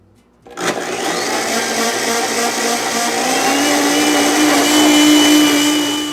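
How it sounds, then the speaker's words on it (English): A blender switches on after a brief quiet moment and whirs loudly and steadily, its motor pitch rising slightly as it keeps running, blending a red pepper pesto sauce with wine. "I put it right back on the blender"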